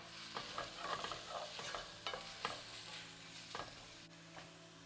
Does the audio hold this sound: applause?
no